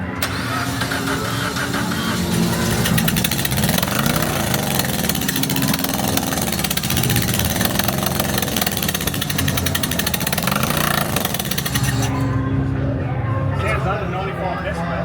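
A race car engine idles loudly and continuously with a rough, pulsing mechanical rumble throughout, while people talk over it nearby.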